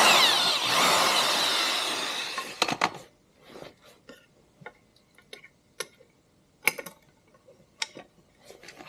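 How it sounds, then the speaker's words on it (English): Hand drill enlarging the hole in a Delrin suspension bushing: a loud whirring drill burst for about three seconds, then scattered clicks and taps of handling the part, close by and without talk. "I suppose I could use my drill press, but I'm just enlarging the hole so I can get that 1/4 inch in it."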